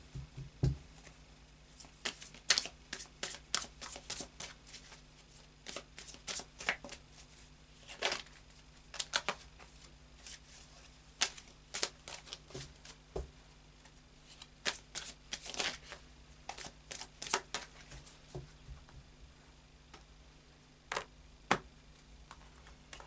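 A deck of tarot cards is shuffled and handled in a quiet room, giving a close series of irregular, crisp card riffles and flicks with short pauses between them.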